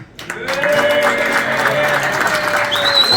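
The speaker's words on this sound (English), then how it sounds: "if you guys can give a round of applause for AK" Guests at a football club presentation dinner applaud, clapping swelling quickly after a brief pause and carrying on steadily through the room, with a few voices and a faint tone mixed in.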